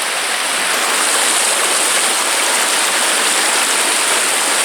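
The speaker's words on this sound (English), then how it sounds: "I might just have one more go at crossing the stream for old time's sake." Stream water on the River Adur at Coombes rushes loudly and steadily while someone wades across, a dense unbroken wash with no talking.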